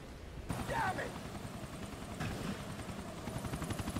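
Helicopter in the video game Grand Theft Auto 4, a continuous rotor chop at moderate level with a soft burst near the start, mixed under faint game noise.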